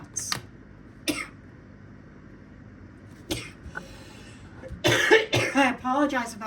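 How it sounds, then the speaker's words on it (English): A person coughs several times close up, short sharp bursts spaced across a quiet room, followed by a cluster of harder coughs and throat clearing near the end. "I apologize about my coughing."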